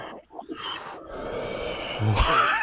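Heavy, rasping breaths come through a live stream, a gasping inhale followed by a long, loud wheezy exhale and a snort-like burst near the end.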